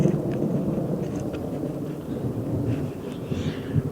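Low thunder rumbles outdoors, a dull and continuous roll that swells and fades slightly over several seconds, fairly distant, with no speech.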